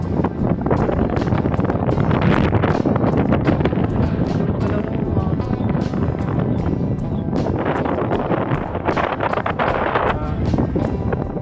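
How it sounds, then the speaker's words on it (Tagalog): Strong wind buffets the microphone outdoors near a waterway, roaring loud and continuous in heavy gusts the whole time. "sobrang lakas ng hangin."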